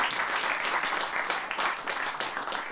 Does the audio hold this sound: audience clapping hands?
yes